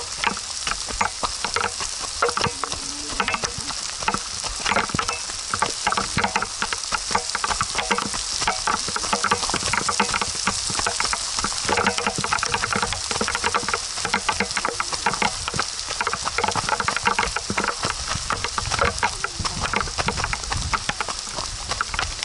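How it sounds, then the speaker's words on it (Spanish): Heavy rain pours steadily on a mountain trail with wet rocks during a run, a dense, loud, continuous hiss and patter that stays unbroken for over twenty seconds with no speech. "Como llueve, tío."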